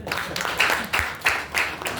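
Congregation clapping during a church worship service, a steady wash of applause with rhythmic swells, moderately loud and continuous without talk.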